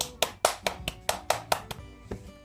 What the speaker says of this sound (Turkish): Arkadaşımız bize çok güzel takla gösterisi yaptı. Alkışlıyoruz.